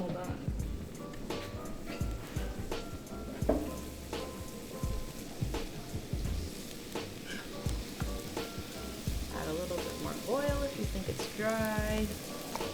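Garlic fries in oil for sopas with a steady, crackling sizzle and occasional light clinks of stirring, while people talk over the cooking.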